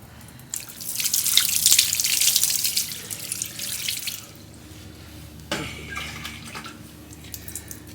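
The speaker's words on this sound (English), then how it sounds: "So let's go ahead and rinse it off." A car wheel treated with Diablo wheel cleaner being rinsed with a water spray, a burst of close splashing and dripping that fades, then a second, quieter run of spray and drips.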